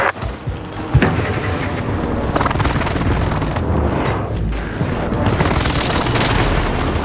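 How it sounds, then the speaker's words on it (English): Airstrike explosions rumble through a Call of Duty: Modern Warfare match, with a sharp boom followed by loud, rolling blasts and heavy low rumbling that continue throughout. "Airstrike! Targets marked! This is Phoenix 3. Strike inbound."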